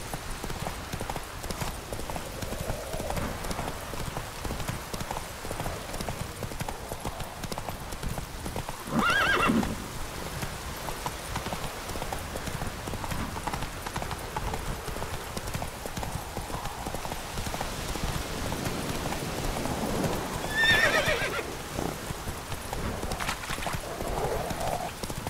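Roach, a horse in The Witcher 3: Wild Hunt, trots with steady clip-clop hoofbeats throughout, neighing loudly twice, once near the middle and once toward the end, over a soft outdoor ambience.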